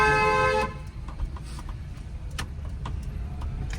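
A car horn sounds in one long, steady honk lasting about half a second in a narrow lane, then cuts off, leaving quiet engine and street background.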